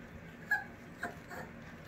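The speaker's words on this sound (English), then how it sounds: "We got another little puppy." A few faint, high whimpers from a small puppy, two short cries with quiet pauses between them, soft and close.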